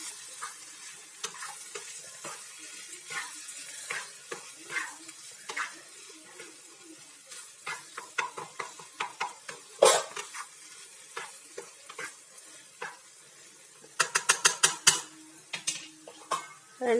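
Mushroom egg podimas is stirred in a pan, with a soft sizzle under scattered utensil scrapes and clinks that come in bursts, including a quick run of sharp taps near the end.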